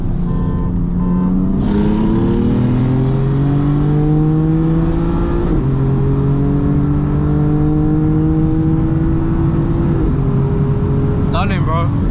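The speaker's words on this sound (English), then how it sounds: "So this is a stage 2 tuned M140i." A stage 2 tuned BMW M140i running about 30% ethanol accelerates hard during night racing, its engine rising loudly through several gear pulls with brief dips between shifts, and voices heard near the end.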